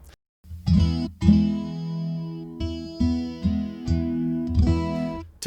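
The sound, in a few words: acoustic guitar with chorus effect applied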